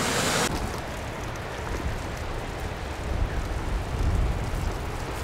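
Ocean surf beside a coastal road with fields on the other side, a continuous broad roar of breaking waves with no voices, swelling slightly toward the end.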